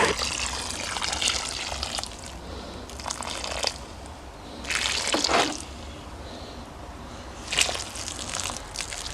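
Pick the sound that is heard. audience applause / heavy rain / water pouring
water pouring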